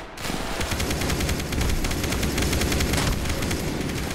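Gunfire in a Roblox gun game, where a shotgun is fired in a rapid, steady run of loud, close shots that continues without a break and with no voices.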